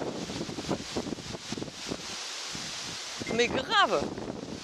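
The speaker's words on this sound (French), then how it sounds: "Oh, il y a un vent de dingue." Strong wind gusting outdoors beside a car while windscreen washer fluid is being topped up, a steady broadband roar under a man's speech with louder buffeting bursts near the end.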